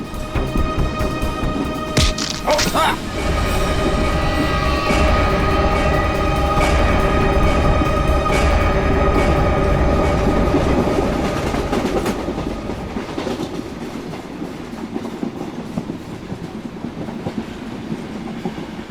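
A train rolls along the tracks with steady clickety-clack and heavy rumble, loud and close throughout, easing somewhat toward the end.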